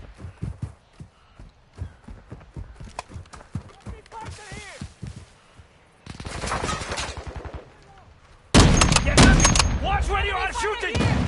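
Gunfire from the military shooter Modern Warfare 2: a run of sharp shots and bursts building to dense, loud automatic fire, with shouted voices mixed in.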